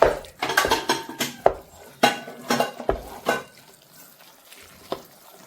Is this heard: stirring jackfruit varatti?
yes